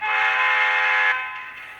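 A model train locomotive horn from a sound decoder on a passenger train layout: one steady, loud, chord-like blast held for about a second, then fading away.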